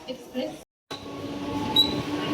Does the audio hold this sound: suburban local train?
yes